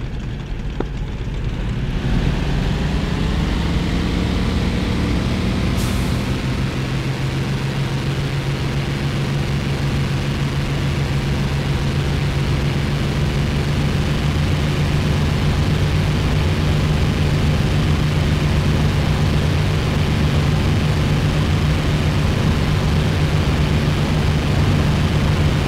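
The twin engines of a B-25 Mitchell bomber in a flight simulator game roar loud and continuous through the takeoff run, a deep steady drone with a rising whine as power builds and the aircraft lifts off.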